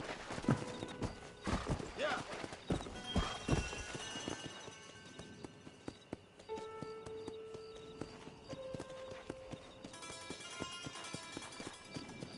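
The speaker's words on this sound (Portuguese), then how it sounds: "Onde tá essa égua?" Horse hooves clip-clop in a steady trotting rhythm in the video game Red Dead Redemption, with a whinny and game background sounds and a voice speaking now and then.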